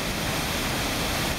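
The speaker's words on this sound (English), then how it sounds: "It's a 14 and a half foot tail race, delivering tremendous quantities of water." Water roaring through the 14.5-foot tail race of North Hartland Dam after Tropical Storm Irene: a dense, steady, broadband rushing wash, constant and enveloping with no breaks, heard alone without voices.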